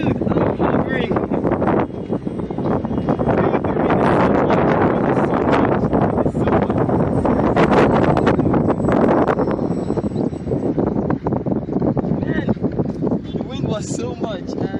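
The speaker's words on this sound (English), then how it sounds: "The wind is not allowing me to fly." Strong outdoor wind batters the microphone in heavy, continuous roaring buffets that rise and fall for the whole stretch, loud and close, drowning out everything else.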